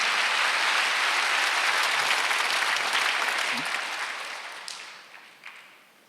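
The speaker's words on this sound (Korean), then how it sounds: "박수 쳐주세요" A church congregation at a Sunday worship service breaks into steady, dense applause that holds strong for several seconds, then gradually thins and fades away.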